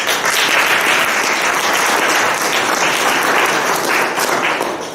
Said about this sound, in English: Applause for Nico